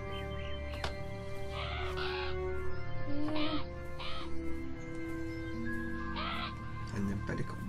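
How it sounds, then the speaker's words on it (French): Crows caw repeatedly in the video game Beyond Eyes, several harsh calls spread across a dark, droning ambient background, some close and loud, others fainter. "Le bruit des corbeaux, ça lui fait."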